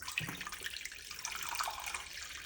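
A glass of water is poured into an iron pan, a soft splashing trickle that runs continuously and fairly quietly, with a faint clink near the start.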